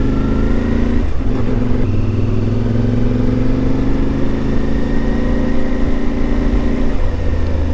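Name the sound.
CFMoto Ibex 450 motorcycle engine running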